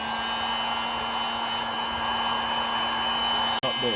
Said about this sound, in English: Hit it with the heat gun again.